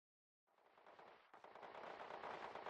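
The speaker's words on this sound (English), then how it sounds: "Those were gunshots." After a moment of silence, rapid bursts of video game gunfire erupt and keep rattling in quick succession, growing louder and denser.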